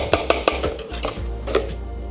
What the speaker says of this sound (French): On va juste le mélanger, histoire d'avoir une pâte homogène.